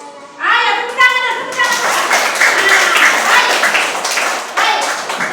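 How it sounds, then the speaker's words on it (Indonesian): Schoolchildren in a primary school classroom clap together in a dense, loud burst of many hands, with children's voices mixed through the clapping. "Ayo, tepuk tangan."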